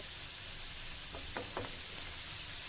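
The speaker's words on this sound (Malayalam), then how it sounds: "എല്ലാം കൂടി ഒന്ന് സോട്ട് ചെയ്തെടുക്കുക." Cooked jackfruit seeds and bitter gourd sautéing in a pan, a constant soft hissing sizzle with a few light knocks and scrapes of stirring near the middle.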